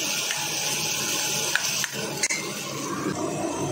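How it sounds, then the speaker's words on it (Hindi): Tadka tempering sizzles steadily in a pan, a continuous bright frying hiss with a couple of faint utensil clinks, close and moderately loud with no voices. "बढ़िया सा तड़का तैयार हो गया,"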